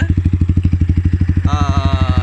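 Yamaha MT15 motorcycle with an MSH full-system exhaust, its engine thumping in a steady rapid pulse up close and loud, with the exhaust note opening into a higher revving tone near the end.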